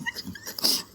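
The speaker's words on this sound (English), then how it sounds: "which dog's barking?" A dog gives a short, whiny yip and bark, close and brief, sounding part whimper and part bark.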